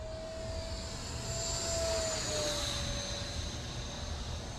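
A 3D printed 64mm Mirage 2000 EDF model jet flies low overhead, its ducted fan giving a steady whine that swells and fades gently with the passes.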